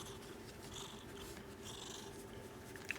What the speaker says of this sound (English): Make her a happy kitty, and she will reward you with some purrs.